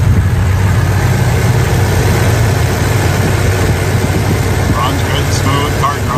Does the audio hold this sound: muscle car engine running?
yes